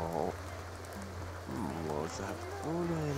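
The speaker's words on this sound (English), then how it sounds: "Oh, what's that? Fucking rain." Steady rain in The Sims 2 life-simulation game, a constant soft hiss running through the whole stretch beneath someone talking.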